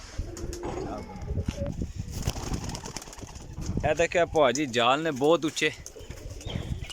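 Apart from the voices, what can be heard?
pigeons cooing and flapping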